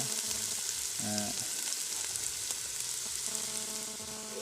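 Onions with turmeric sauté in a pan for a beef curry, giving a steady close sizzle with a few stirring scrapes and no talking.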